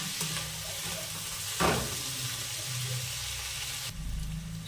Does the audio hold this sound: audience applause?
no